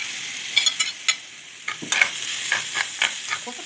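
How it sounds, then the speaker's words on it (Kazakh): Small meatballs sizzle in a pan with half-fried onions, a constant frying hiss broken by sharp scraping and clattering stirring strokes, close and loud with no talking. "Шала қуырылған пиязға тәрізімізді қосамыз."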